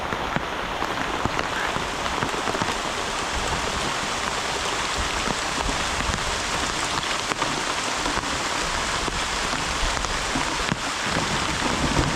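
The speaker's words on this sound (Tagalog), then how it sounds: "Lakas ng ulan oh." Heavy rain pours on Talim Island, a dense, loud, constant hiss of drops hammering surfaces nearby, unbroken throughout.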